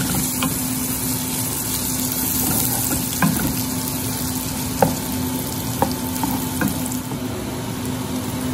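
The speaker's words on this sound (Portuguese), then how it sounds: "eu pego, ó, cebola picadinha, alho picadinho, pimentão vermelho e adiciono ali no bacon. Dou uma refogadinha aqui tudo junto" Chopped onion, garlic and red bell pepper sautéing together with bacon in a pan give a steady, close sizzle, broken by a few sharp clicks of a utensil against the pan, with no talking.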